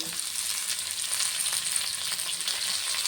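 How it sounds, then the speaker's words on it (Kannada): Coriander leaves, garlic cloves and curry leaves fry in hot oil for a red chutney, producing a steady close sizzle and crackle throughout with no voices. "ಇಷ್ಟು ಸ್ವಲ್ಪ ಫ್ರೈ ಆಗಲಿ"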